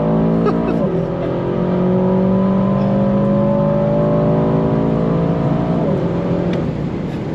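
A heavy Aston Martin DBX 707 SUV launches from a standstill, its engine roaring loud and close through rising gear pulls with a brief shift dip, sustained hard acceleration throughout.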